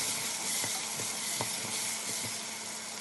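Onion frying in a pan with curry powder and turmeric for Nigerian fried rice, a dense close sizzle with a few soft stirring taps, no talking.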